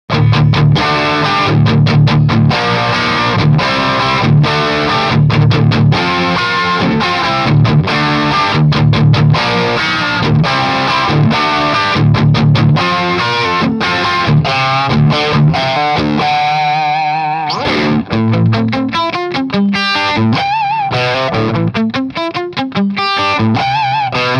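Heavily distorted electric guitar chugging and ringing through an Orange Jim Root #4 Terror amp head on a brown sound setting, loud and continuous, with dense crunchy chords and a brief quieter break near the end.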